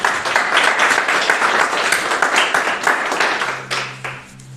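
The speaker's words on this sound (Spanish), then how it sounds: "Demos un aplauso al Señor" A church congregation breaks into sustained applause, dense clapping that stays full and steady before tapering off near the end, when a low tone comes in.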